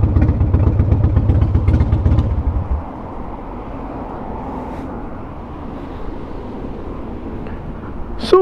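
A Harley-Davidson CVO Wide Glide Switchblade motorcycle engine rumbles loud and close with a deep pulsing idle, then clunks into first gear and settles into a quieter steady drone.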